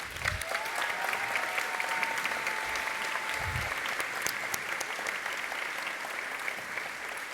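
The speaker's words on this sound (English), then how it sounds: "how about a round of applause for the organizing committee?" Steady, dense audience applause fills a high school graduation ceremony at North Grenville District High School, a continuous even roar of many hands clapping with no voices over it.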